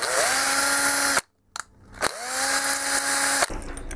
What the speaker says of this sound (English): Now I'm going to tap the holes for the end stop bolts with an M3 tap.